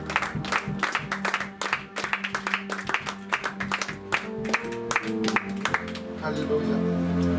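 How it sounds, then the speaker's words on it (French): A church congregation claps in a rapid, steady rhythm, the applause dense and near, with some crowd voices and cheering mixed in and rising toward the end. "Acclame-le très fort, alléluia."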